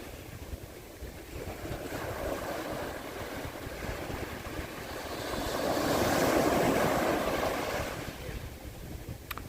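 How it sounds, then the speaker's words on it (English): Ocean waves wash onto the beach at Coney Island in Brooklyn, a steady hiss of surf with wind that swells into one broad, louder breaker before easing back. "Love the sound of waves."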